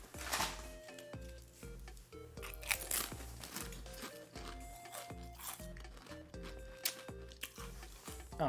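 Lay's spicy hot pot potato chips are crunched and chewed close up, a series of sharp crisp bites followed by irregular chewing crunches, with no talking.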